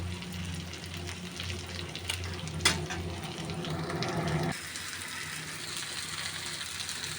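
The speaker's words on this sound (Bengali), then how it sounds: "এই বেগুন ভাজা একটু পানি দেওয়া যাবে না, পানি ছাড়াই এটা ভাজা করতে হবে।" Eggplant slices dry-frying in a pan with no water added, giving a steady, close hiss and sizzle with one sharp crackle partway through.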